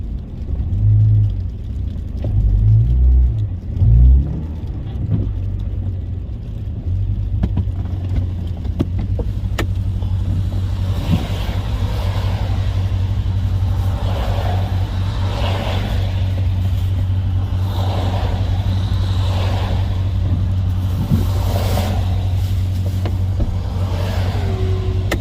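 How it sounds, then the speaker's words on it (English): A BMW E39 sedan with a stage 2 engine tune is heard from inside on a test drive, a steady low engine drone and road rumble throughout with slight rises in revs. "Gonna be taking it for a test drive."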